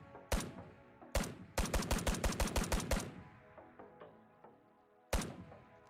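A G3 DMR marksman rifle fires in Squad with the Bundeswehr mod: two single shots, then a fast run of about ten evenly spaced sharp reports, then one more shot after a pause, close and loud with no talking.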